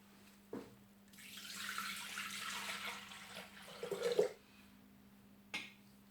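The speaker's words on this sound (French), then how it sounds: "on va mettre de l'eau pour cuire les patates" Tap water runs into a cooking pot for potatoes in a home kitchen, a steady splashing pour lasting about three seconds, preceded by a click and followed by a clunk as the pot is set down.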